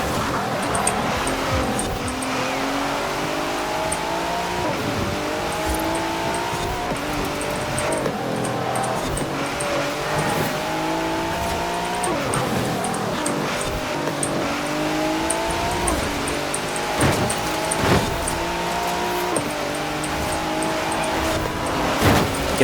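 Racing cars in a Forza Horizon 4 race, with a Corvette C8 in the field, roar steadily throughout, engines repeatedly climbing in pitch through the gears with shifts every few seconds, a continuous loud mix of nearby motors and no talk.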